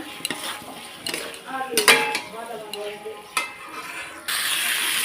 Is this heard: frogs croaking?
no